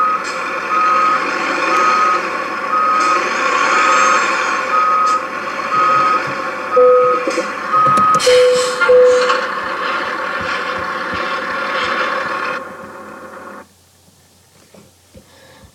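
A truck in American Truck Simulator reverses to hook up a trailer, its steady reversing alarm beeping evenly over a loud engine drone. A few clunks and mechanical knocks follow as it couples, then the engine fades to a quiet idle.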